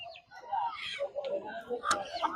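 Native domestic rooster, about 2.5 kg, clucking faintly amid the crowd noise of a rural poultry market, its calls mixing with nearby people talking.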